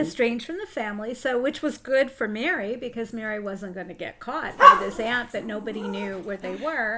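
A dog barks a few times inside a room, short sharp yips cutting over a steady conversation between people close to the microphone.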